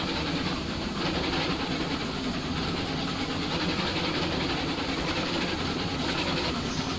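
A steady, droning engine rumble of a Heisler steam locomotive in a video game runs unbroken throughout, a continuous low mechanical hum with a hissy upper layer, like a locomotive idling.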